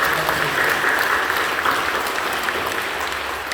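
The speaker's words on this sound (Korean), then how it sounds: "박수를 경배해 주시기 바랍니다." A church congregation at a Sunday worship service applauds together, a dense, sustained wash of clapping from many hands that carries on steadily without a break.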